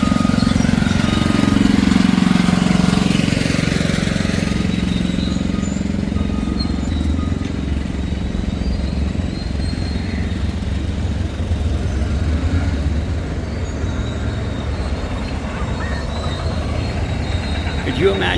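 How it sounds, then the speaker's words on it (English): A four-cylinder Murphy diesel engine runs steadily at a steam show, a loud continuous low rumble and clatter throughout, with crowd noise around it. "4-cylinder Murphy diesel."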